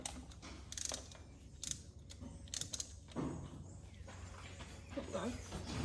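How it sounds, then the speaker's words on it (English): Ratchet clicking while unscrewing spark plugs from a car engine during a compression test, a series of short bursts of clicks close by, with people talking over a low background hum. "we're just going to unscrew the rest of the spark plugs now"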